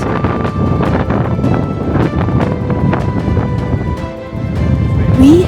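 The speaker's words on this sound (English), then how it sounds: "the wind is still blowing strongly" Strong wind buffets the microphone on a mountain hike near the Mount Kosciuszko lookout above Thredbo, a loud, steady roar with repeated gusting surges throughout.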